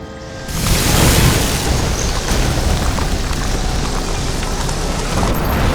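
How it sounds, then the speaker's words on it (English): In a video game, a flooded transformer that caught fire explodes: a sudden loud boom bursts in after a half-second of quiet, then a dense roaring rumble holds steady to the end. "That's what caused the explosion."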